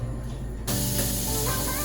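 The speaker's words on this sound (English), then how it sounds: "We're gonna just saute the onions a little bit." Onions sautéing in a pan, a steady broadband sizzle that jumps abruptly louder partway through and then holds constant, with a low background hum underneath.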